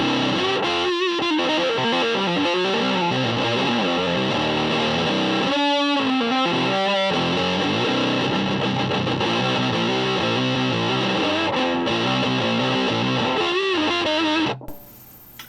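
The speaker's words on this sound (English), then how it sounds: "Proper distortion." An electric guitar plays through a FuzzBeard Industries Tuskano DeLuxe fuzz pedal, thick and saturated, with sustained chords and a few picked notes, loud throughout before cutting off at the end.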